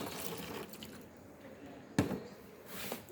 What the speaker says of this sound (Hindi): पानी जो है इसको बॉटल के अंदर डाल लेंगे।